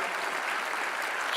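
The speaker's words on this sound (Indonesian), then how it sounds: "Mari kita tepuk tangan untuk Christina dan semua anak Indonesia" Steady, dense audience applause for Christina and Indonesian children, a continuous wash of many hands clapping at even loudness throughout with no break.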